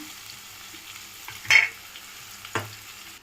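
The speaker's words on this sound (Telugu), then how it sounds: "ఇవి ఒక 5 మినిట్స్ వేగనిద్దాం" Ivy gourd frying in a pan with curry leaves and dried red chillies gives a steady close sizzle, broken by two brief utensil clatters.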